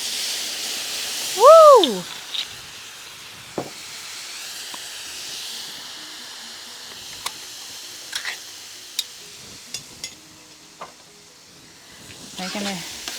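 Wine and stock hit a hot paella pan, giving a steady, close hiss and sizzle with scattered ticks and clicks, briefly overlaid by an excited whooping voice near the start.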